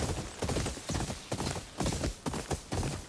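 Horse hooves pound in a steady galloping rhythm in the video game Ghost of Yotei, loud and close, repeating in quick clusters throughout.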